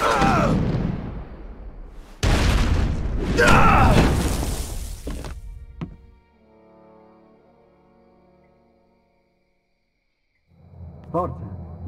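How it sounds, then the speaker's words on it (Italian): Explosion in the video game Lost: Via Domus, heavy booming rumbles and crashing blasts in the opening seconds fading into a faint low ringing, then quiet, with a voice speaking at the end. "l'esplosione non passerà inosservata"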